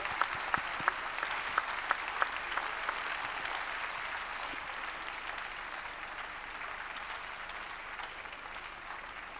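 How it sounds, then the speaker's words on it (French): An audience at a French departmental child-protection conference applauds in a steady, moderately loud wash of clapping, with a few sharper individual claps near the start. "je voudrais juste qu'on applaudisse les gens de terrain."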